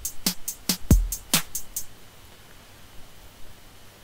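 Closed hi-hat and kick pattern from an LMMS TR606 drum synth in a trap groove, a few crisp ticks and one low thump in quick succession, then fading to faint hiss.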